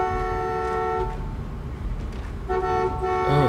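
In The Walking Dead video game, a truck's horn gives a loud, steady toot for about a second, then sounds a second long blast after a short pause.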